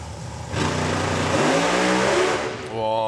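A drag racing car roars off the line at a national finals meeting, its engine surging loud and close, then stands up on its rear tyres before the driver backs off the throttle and the pitch shifts.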